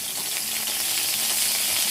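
Mustard seeds spluttering in hot coconut oil in a cheenachatti pan for Kerala-style kumbalanga pachadi, a loud, steady close sizzle with rapid crackling pops throughout.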